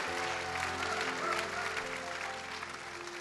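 A church congregation at an anniversary service applauds in a large hall, a continuous wash of clapping with music sustaining underneath, fairly soft and fading slightly toward the end.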